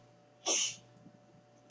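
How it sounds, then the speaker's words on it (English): A woman sneezes once from a played-back clip, a short sharp burst with a quick intake just before it, then quiet faint breathing and the start of another sneeze at the very end. "Holy shit, that's a lot of sneezes."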